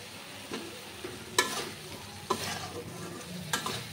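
Ridge gourd pieces being stir-fried in a pan with ginger paste, turmeric and salt for a prawn curry, a quiet low sizzle punctuated by three or four sharp spatula scrapes and knocks.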